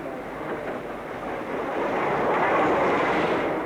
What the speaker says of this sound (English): There's the North Britain coming in now.